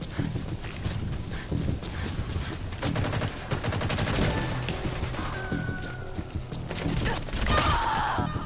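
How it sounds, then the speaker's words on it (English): Gunfire in the online shooter Metal Gear Online, busy bursts of shots and loud game action packed densely through the whole stretch, with no talk over it. "Headshots on Ocelot, but I didn't kill him"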